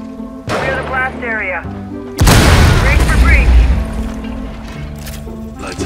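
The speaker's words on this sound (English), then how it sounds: "You can just have Thatcher throw an EMP grenade at it, and it'll clear it up and allow thermite to bust through" An EMP grenade goes off in Rainbow Six Siege: one heavy, booming detonation lands partway through, with brief game and voice sounds before it and a rumbling tail after.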